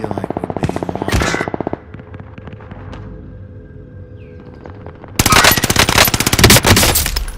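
Enemy gunfire in Call of Duty: Modern Warfare rattles in loud automatic bursts, with a quieter, sparser stretch of shots in the middle before a heavy, sustained volley closes it out.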